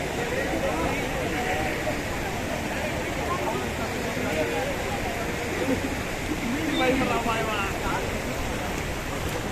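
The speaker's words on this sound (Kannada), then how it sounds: "ಪಂಪ ನದಿ ಹರಿತಾ ಇದೆ" Steady rushing of the Pampa River fills the background, a constant broadband wash, with voices talking over it at a bathing spot.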